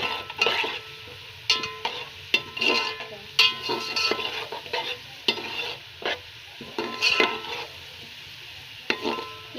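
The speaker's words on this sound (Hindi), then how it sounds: "ये गर्म होते ही इसमें हमने प्याज डाल देना है।" Onions browning in hot ghee for mutton pulao, a steady close sizzle broken by repeated scraping stirs of a spoon against the pot, roughly every second, with no voices.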